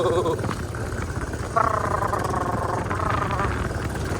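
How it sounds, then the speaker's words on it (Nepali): A motorcycle with a stock silencer climbs uphill, its engine a steady mid-pitched drone that grows fuller partway through as the throttle opens, heard up close from the rider's position. "स्टक हो साइलेन्सर चाहिँ, स्टक साइलेन्सर हो, तर साउन्ड चाहिँ मिठो आएको है स्टकमै"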